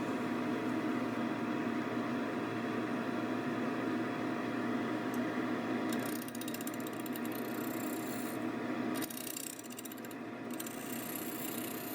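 A wood lathe turning a maple bowl blank at around 500 RPM, a steady whirring motor hum with a constant mechanical whine, joined after a few seconds by a brighter hissing rasp of cutting, alone.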